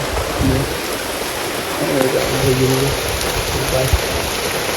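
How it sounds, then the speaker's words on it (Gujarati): Steady rain hisses across the whole clip at a farm, with faint voices murmuring underneath and a soft thump near the end. "વરસાદ અત્યારે પણ આવી ગયો ભાઈ"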